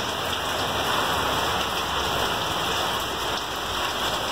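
Steady hail and rain pour down, a dense even hiss of drops on surfaces with no voices.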